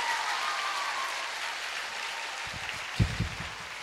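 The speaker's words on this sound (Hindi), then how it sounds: "इन जोर से एक बार ताली बजाओ इन लोगों की मेहनत के लिए" A youth gathering audience applauds in a steady, dense wash of many hands clapping, with a few louder thumps and knocks near the end.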